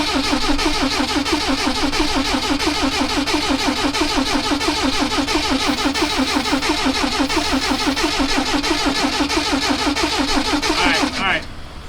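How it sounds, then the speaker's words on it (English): Supercar project engine cranking on the starter without firing, a fast rhythmic chugging churn held steadily and loudly for about eleven seconds before cutting off abruptly. "Give it a little crank."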